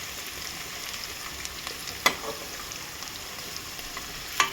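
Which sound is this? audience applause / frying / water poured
frying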